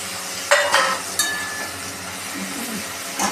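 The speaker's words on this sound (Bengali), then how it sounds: "এবার আমরা এতে সেদ্ধ করা আলুগুলো দিয়ে দেবো।" Boiled potatoes go into fried pumpkin in a pan and get stirred, a soft sizzle under a few sharp metallic clinks and scrapes of a spatula against the pan, close and alone.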